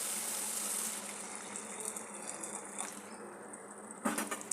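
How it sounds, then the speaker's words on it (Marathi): Hot water gushes into a pan of sev bhaji curry with a soft continuous hissing pour, faint and close, ending with a brief clatter. "याच्यामध्ये आता मी पुन्हा गरम पाणी ओतते थोडंसं"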